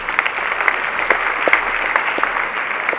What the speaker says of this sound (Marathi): त्यांच्यासाठी आपण एकदा जोरदार टाळ्या वाजवल्या.